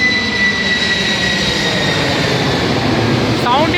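Large jet airplane roaring loudly overhead near an airport, a steady broadband engine rumble with whining tones that fills the whole clip without pause.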